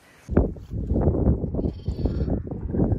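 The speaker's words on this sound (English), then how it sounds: "Great to get so many lambs outside um, into some sun, get some sun on their backs." Lambs bleat outside on a farm, with many overlapping calls in quick succession, loud and near, continuing without pause.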